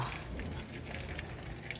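Barracuda roe fries quietly in a pan, a soft, steady sizzle with faint scattered crackles over a brief moment.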